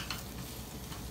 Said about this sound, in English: this is sizzling up very nicely, browning up beautifully